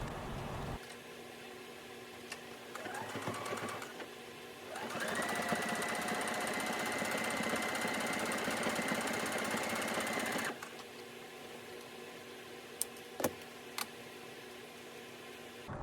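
A sewing machine stitches bra cups onto fabric in one steady run of about six seconds, a close whirring buzz framed by quiet handling and a few small clicks.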